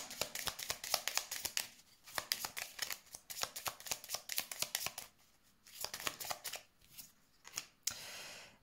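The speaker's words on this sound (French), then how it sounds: "Je vais mettre la dernière carte." Tarot cards are handled and laid on a table. Rapid papery flicks and snaps come in quick clusters separated by short pauses, then a brief rustle at the end. The sound is close and fairly quiet, and no one speaks.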